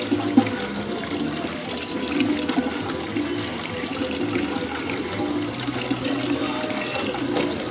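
A rope pump prototype pushing water into a bucket, with a steady, continuous rush and splash of flowing water throughout and no pauses.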